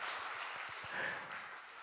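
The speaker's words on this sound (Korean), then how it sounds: "박수 한번 쳐주시죠." A church congregation at a combined youth and student worship service breaks into applause, a soft, even wash of clapping heard from a distance for about two seconds with no speech.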